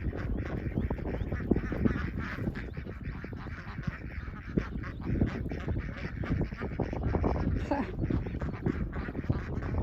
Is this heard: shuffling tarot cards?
no